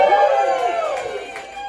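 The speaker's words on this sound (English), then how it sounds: "by way of a great big raucous cheer" A live comedy audience at a fringe cabaret show lets out a loud, raucous cheer with shouting and whooping that carries steadily through the whole moment.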